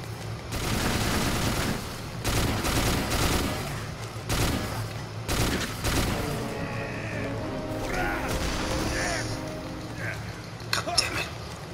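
Dense, loud bursts of rapid gunfire in the video game Let It Die, several sustained volleys back to back with short gaps, followed by scattered metallic clatter and softer effects toward the end.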